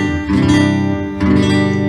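An electro-acoustic guitar set to a clean, plain acoustic tone, strummed twice in quick succession, each chord loud, close and ringing on.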